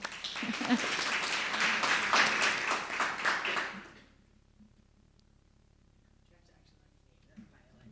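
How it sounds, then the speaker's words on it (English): An audience claps and applauds for about four seconds, fairly loud, then it cuts off into near silence with a faint thump. "Let's give her a round of applause."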